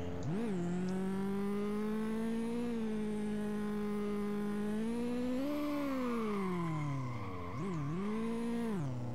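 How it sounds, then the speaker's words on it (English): Car engine during a handbrake turn in Street Legal Racing Redline, a steady droning engine tone that rises and falls with revs, including a sharp pitch swoop near the end, loud and continuous. "Let's do a handbrake turn."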